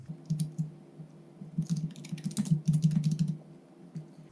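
Quick bursts of typing on a computer keyboard, tapping in a spreadsheet: close, crisp key clicks in uneven runs with short pauses between words, no talking.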